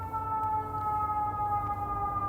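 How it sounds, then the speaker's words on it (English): An emergency siren sounds in a city neighborhood, a steady sustained wail carrying from the background with nothing else heard over it. "You hear the siren in the backdrop"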